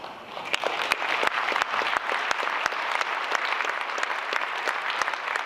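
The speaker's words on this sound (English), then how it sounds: "They've really worked hard for you as members in that space and deserve a round of applause." Round of applause from members at a wireless networking company open house, a steady, moderately loud patter of many hands clapping with a few sharp individual claps standing out throughout.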